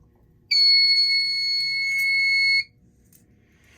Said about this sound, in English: you kind of hear that carbon monoxide, that's because everything's all resetting